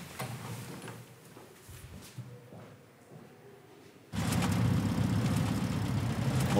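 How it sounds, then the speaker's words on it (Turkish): A car engine with an odd sound idles quietly at first, under faint clunks and movement, then swells abruptly into a louder, steady low rumble for the last couple of seconds. "Motorun sesinde bir gariplik var değil mi?"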